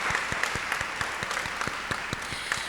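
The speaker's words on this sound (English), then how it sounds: "How about another round of applause?" A crowd at an event honoring Opal Lee, the Grandmother of Juneteenth, gives sustained applause, a loud, dense and steady roar of many hands clapping with a few sharper individual claps standing out.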